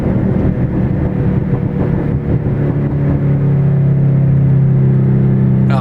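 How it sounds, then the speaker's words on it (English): A loud, steady engine rumble with a deep low drone holding throughout, from a Shelby GT350 Mustang sports car idling or cruising close by. "this is one of those cars that's very loud"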